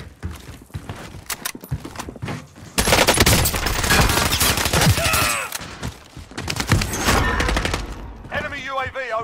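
Rapid gunfire in a battle royale shooter game, bursts of automatic shots crackling in dense clusters with brief pauses between volleys, loud and close, with a player's voice talking over parts of it.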